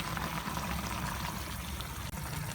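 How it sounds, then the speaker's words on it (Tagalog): Water poured from a container into a pot of chicken stewing with pineapple, a quiet continuous splashing stream lasting a couple of seconds with a small clunk near the end. "dadagdagan na lang natin ito ng konting tubig"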